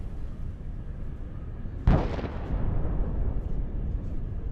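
A single distant boom from a drone strike on a fuel depot in Rostov, a sudden heavy blast followed by a low rolling rumble that lingers over steady background noise.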